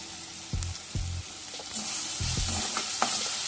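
Spices for paneer pulao sizzle and fry in a pan while a spoon stirs them in a few distinct scraping strokes, steady frying hiss throughout, close and fairly loud, no talking.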